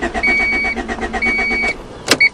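A 1991 Honda Accord engine cranking over in rapid, even pulses without catching, two long bursts separated by a short pause, then brief clicks and a short whine at the end; loud and close.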